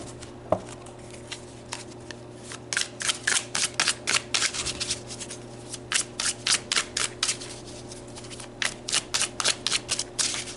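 Oracle cards shuffled by hand in a series of quick papery riffle bursts, repeating rhythmically and close up over a steady low hum, with no talking.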